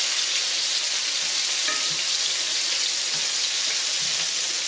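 Catfish fillets pan frying in a cast iron skillet, a steady dense sizzle and hiss filling the whole clip with faint crackles, close and continuous with no talk.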